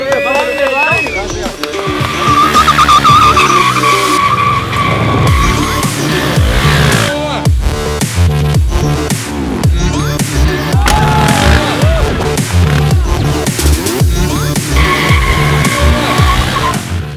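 KTM Duke 390 and Duke 250 motorcycles drifting in Colombia, with loud screeching tire skids and revving engines rising and falling repeatedly, close by, with voices over them.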